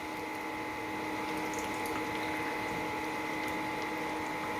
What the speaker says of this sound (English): I'm just going to add a little dash of water.